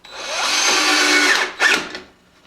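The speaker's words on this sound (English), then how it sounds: "once I get the drill going in the right darn direction," A power drill whirs steadily for about a second and a half, driving a countersunk screw into wood during a model city build, then gives a short second burst and winds down, close and loud with no talking.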